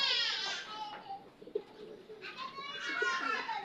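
Birds chirp and call in rapid warbling bursts nearby, with soft low cooing tones underneath.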